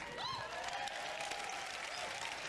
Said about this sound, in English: I'm actually applauding to this.